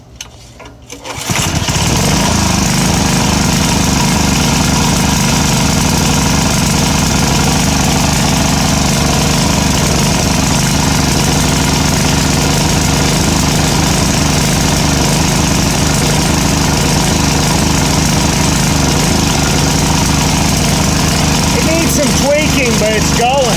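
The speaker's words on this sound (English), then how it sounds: "But it's going." The small engine of a 2019 Winco K1600 generator, fitted with a CJ11 spark plug, starts up and runs steadily at a loud, even drone, its buzzing hum continuing without pause.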